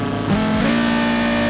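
A '95 RS2 Avant engine in Forza Horizon 3 revs up sharply, then holds a loud, buzzing tone pinned near the rev limiter, continuous and close with no talking.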